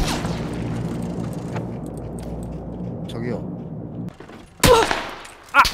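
Gunfire from an MK14 rifle and an M249 machine gun in the video game Battlegrounds, with dense rapid shots early, a lull, then a couple of sharp, loud blasts near the end, while a player talks throughout.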